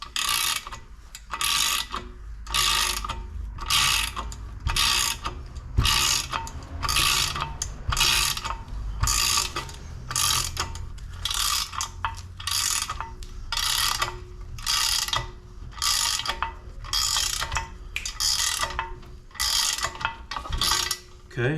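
A ratchet tightening a bolt on all-thread rod during a gull wing install on a Lobo 250r, with even, repeated bursts of close, crisp ratcheting clicks and brief pauses between strokes.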